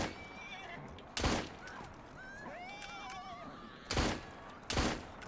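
A horse in the video game Assassin's Creed Syndicate whinnies in a rising, wavering call, set between a few sharp bangs like gunshots, over a steady background.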